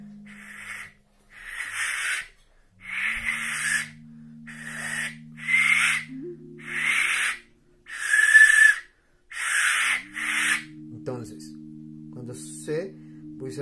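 Breathy, hissing bursts of air are blown repeatedly in short pulses through a simple whistle with no air channel, with faint whistle tones now and then, close and quiet.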